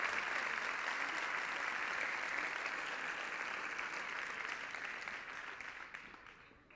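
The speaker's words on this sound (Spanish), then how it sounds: "Fuerte el aplauso." Strong applause at a sports awards gala, dense and steady clapping from a large audience that gradually fades toward the end.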